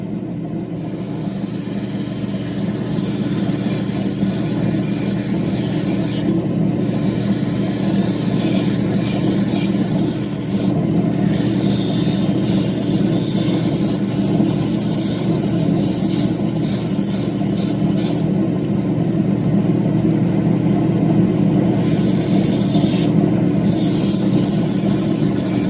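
A diamond wheel grinds a groove through an opal stone in a steady, loud, unbroken whir and rasp that keeps going throughout, with no talk.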